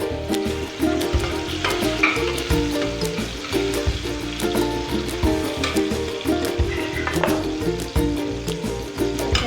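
Tomato and finely ground masala paste sautéing in a pan for a horse gram usal, a busy sizzle broken by rhythmic spoon knocks and scraping strokes against the pan, close and moderately loud, with no talk.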